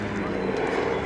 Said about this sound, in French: un DC-3, l'un des plus anciens encore en service